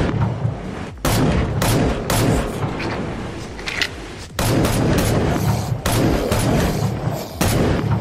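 Gunfire in a 3D zombie video game: loud, close shots that repeat in booming bursts about every second, with a dense, noisy rumble filling the gaps between them.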